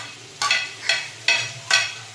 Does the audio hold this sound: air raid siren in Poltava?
no